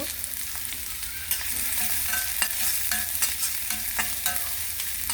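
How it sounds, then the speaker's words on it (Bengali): Onions frying in a small amount of oil in a wok, a steady close sizzle with repeated scraping and stirring clicks from a spatula, no voices. "পেঁয়াজ দিয়ে দিব।"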